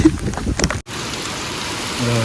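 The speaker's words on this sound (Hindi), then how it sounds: "बारिश देख लो इतनी तेज है, आधे घंटे से लगातार हो रही है।" Heavy rain falls steadily outdoors as a dense, close hiss, with a short muffled stretch of handling noise at the start before a brief cut.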